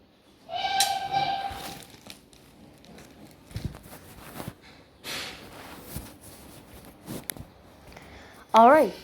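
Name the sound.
train engine whistle from a video game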